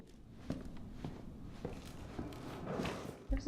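Soft, close footsteps pad along at an uneven pace in the survival horror game Resident Evil 7, with light scuffs and shuffles between steps and a sharper knock near the end.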